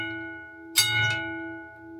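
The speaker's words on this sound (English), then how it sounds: "he would ring the bell twice and then once to hoist rock." Signal bell at the Eagle Mining Company gold mine in Julian, California, rung to hoist rock; a sudden bright clang with a quick second strike rings out over a steady background hum, then fades.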